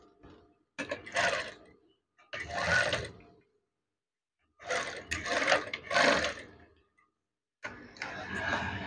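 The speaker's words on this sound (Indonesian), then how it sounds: "Jahit saja setelah dilipat." A sewing machine stitches a folded curtain in several whirring runs of a second or two, separated by silent pauses, close and moderately loud.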